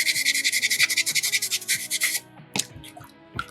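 Sandpaper rubs back and forth over a small soapstone bear carving in quick, rhythmic strokes for about two seconds. Softer scrapes and a couple of knocks follow as the stone is handled.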